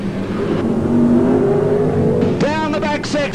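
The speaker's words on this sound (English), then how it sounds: "George Tatnell, the race leader, screaming away in the number 8 car, up through turns 1 and 2" Race car engine screaming through turns 1 and 2 at a 1986 NSW speedway heat, a sustained high-pitched whine from the number 8 car under a race commentator's voice, rising sharply near the end.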